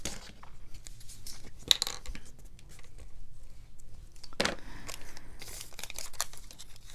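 Paper being torn by hand while making shabby tabs for crafting, several short rough rips and crinkles scattered among soft handling rustles, close and fairly quiet, with no talk.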